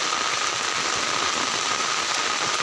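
Heavy rain falling over a flooded village riverside during a monsoon downpour, a dense, continuous hiss with no breaks or voices, close and loud throughout.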